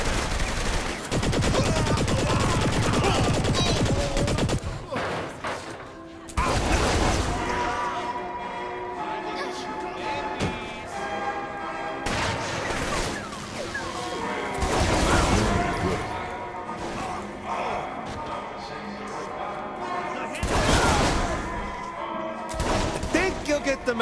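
Heavy gunfire and explosive crashes in the Saints Row 3 video game, dense and continuous with loud bursts throughout, while a voice talks over the action.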